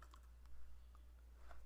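Light typing on a computer keyboard gives a few faint, irregular clicks over a low background hum, with no voices.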